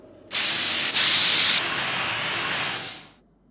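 Paint spraying from an ABB IRB 580 painting robot: a steady, loud broadband hiss that starts abruptly, holds for about three seconds with a slight shift partway, then fades out.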